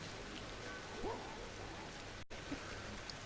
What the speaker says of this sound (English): it's a bit of a rainy day here in Africa currently